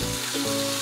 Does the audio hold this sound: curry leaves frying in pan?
yes